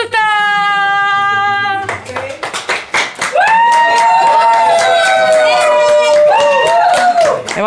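A group on a sofa claps to welcome the hosts of a reality show set in an influencer house. The short burst of applause comes after a musical tone, with voices and music mixed in.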